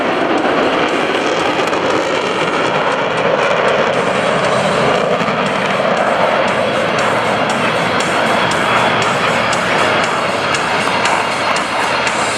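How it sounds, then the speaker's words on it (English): US Navy Blue Angels jets fly at the 2015 Rhode Island ANG airshow, a loud, continuous roar of jet engines that fills the whole stretch with steady, rumbling intensity. "From the left, your 2015 Blue Angels."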